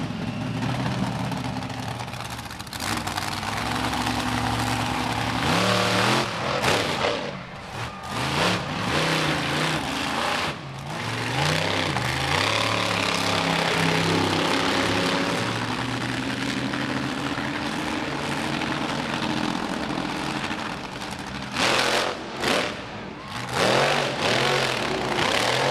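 The Quadzilla monster truck driven by Roger Gallagher roars around a speedway track at a night destruction event, a loud sustained engine drone that surges and dips as it revs and lands, heard over crowd and arena noise.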